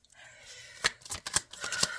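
Tarot cards are shuffled in a few quick riffling bursts, soft and close, with brief pauses between the flurries and no talking.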